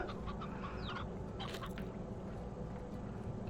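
Chickens in the video game Slime Rancher cluck in quick scattered bursts, close and busy, layered over a dense background hum.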